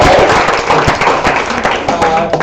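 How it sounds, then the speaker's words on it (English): Close, loud audience applause at an improv marathon show, a continuous flurry of claps with scattered whoops and crowd voices mixed in. "Give a big round of applause to these crazy people."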